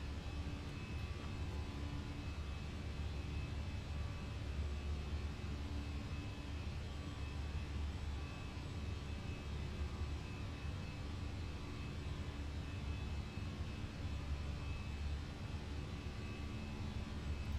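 Airliner climbing out after departure in Microsoft Flight Simulator 2020, a steady, fairly quiet broadband engine and airflow roar with a faint constant whine, unbroken and without voices.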